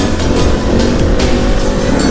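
A motorcycle ridden by a younger brother, its engine droning loud and steady throughout with a rough, continuous rumble, no voices over it.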